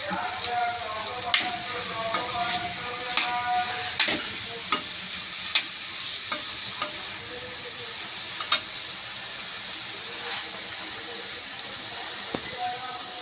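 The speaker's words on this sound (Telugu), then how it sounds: "కాకరకాయ ముక్కలు ఇలా లైట్ గోల్డెన్ బ్రౌన్ కలర్ వచ్చిన తర్వాత ముందుగా కట్ చేసి ఉంచుకున్న ఉల్లిపాయ ముక్కలు కూడా వేసుకొని కలుపుకోవాలి" Bitter gourd pieces and chopped onion fry in a pan as they are stirred, a steady soft sizzle with light irregular utensil clicks and scrapes over it.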